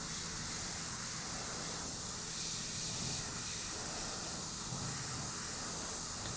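An airbrush sprays paint onto a biomechanical skull piece in a steady, continuous airy hiss that runs unbroken throughout, close and even in level with no talking.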